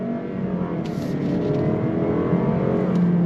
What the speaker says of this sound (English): You do get some familiar 4-cylinder turbo sound